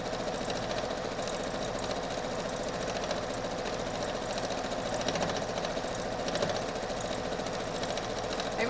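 A cheap sewing machine runs continuously as it stitches fabric and sews over pins, a steady, close mechanical whirring and rapid needle thumping with slight variations in pace; no one speaks.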